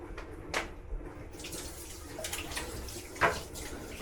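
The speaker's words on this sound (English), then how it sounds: "so wash my hands" Water running steadily from a kitchen tap as hands are washed before cooking, a continuous close hiss and splash with a few brief clinks and no talk.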